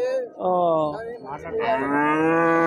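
A cow at a village cattle market in Husnabad, Siddipet district, gives two loud, drawn-out moos close by, with little other noise around.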